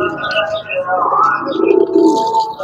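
Pigeons coo in a low, throaty warble among a large flock kept for sale, several overlapping calls close by, with faint chatter and rustling around them.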